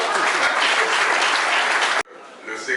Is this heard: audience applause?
yes